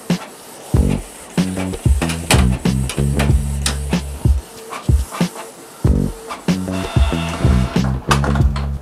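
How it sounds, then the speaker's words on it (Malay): A Canon G3010 wireless inkjet printer runs a print job, its motor and paper feed whirring and clunking in repeated short mechanical bursts with brief pauses between them, loud and close, with no talking. "Okay, printer sedang jalan."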